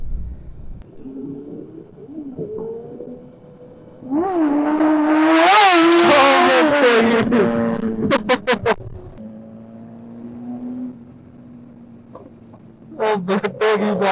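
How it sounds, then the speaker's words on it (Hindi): A motorcycle engine on a highway ride revs hard for a wheelie, its pitch climbing and swelling loudly before dropping back to a steady drone, with a few sharp bursts and later revs near the end. "अभी आकाश भाई मारेंगे व्हीली और उसकी बनाएंगे वीडियो"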